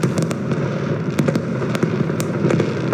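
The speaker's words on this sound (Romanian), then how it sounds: "2022 a fost întâmpinat cu spectacol de artificii." Fireworks display greeting New Year 2022 in Brașov, Romania, with dense crackling and scattered sharp bangs over a steady loud rumble of bursts.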